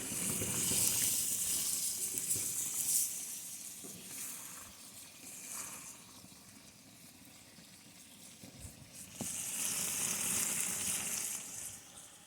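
Bograch stew cooking in a pot while being stirred, giving a steady sizzling, bubbling hiss that swells and eases over time, with occasional scrapes and knocks against the pot.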